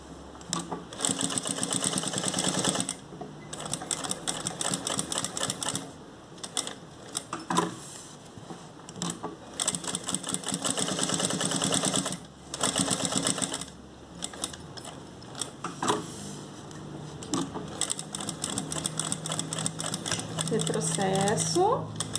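A sewing machine stitches fabric in quick bursts of rapid mechanical clatter separated by short pauses, including a backstitch, while someone speaks in Portuguese between and over the runs.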